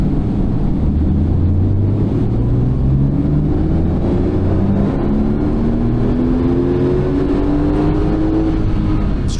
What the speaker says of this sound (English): Can it really do 711 horsepower? We're going to find out now by running it on the dyno.